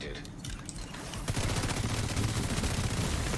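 Sustained dense gunfire in the shooter The Division 2 during a PvP fight, a steady roar of overlapping shots filling the clip at moderate volume.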